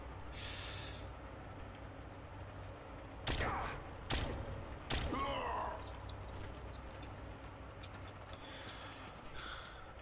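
Gunfire in the video game James Bond: Quantum of Solace, three loud sharp shots in quick succession mid-clip over a low ambient game backdrop, with faint chirping sounds before and after.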